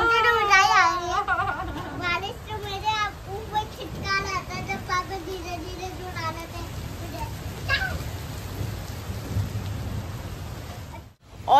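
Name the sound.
rain falling with thunder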